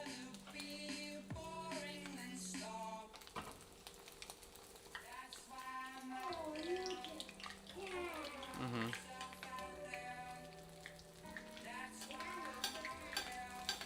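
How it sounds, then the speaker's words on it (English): Coconut rice cake fries hard in plenty of oil in a pan while fat is spooned over the top, giving a steady close sizzle with spoon stirring as people talk throughout. "No, but there's a lot of oil, so it's not gonna stick. I'm just trying to spoon some fat on the top"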